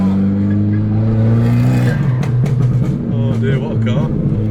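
An Abarth fitted with a stage 3 ECU calibration and a TD04 turbo kit accelerating hard, its engine note climbing loudly from inside the car before dropping at a gear change and pulling again, with excited talk and exclamations over it.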